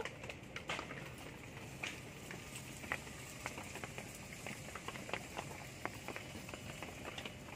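Rain falls steadily as a dense, even hiss with scattered sharper drops throughout, soft and continuous with no speech.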